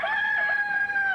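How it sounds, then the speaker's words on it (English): A rooster crows in one long, clear, loud call in rural Ohio, close and alone with no talk over it. "Boy, I like hearing them roosters crow."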